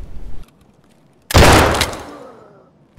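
A single loud, close gunshot in the video game Escape from Tarkov rings out with a long decaying echo, followed by a quiet tail, with a short muffled rumble before it.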